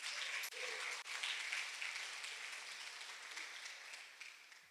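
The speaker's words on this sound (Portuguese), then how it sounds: "Dá salva de palmas a Jesus." A church congregation claps and cheers in praise during a sermon, a sustained, fairly bright round of applause from a large crowd that gradually thins toward the end.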